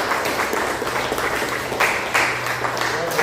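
Church congregation applauding the Lord during a worship service, a dense steady wash of many hands clapping throughout, fairly loud and close, with a faint voice or two murmuring underneath.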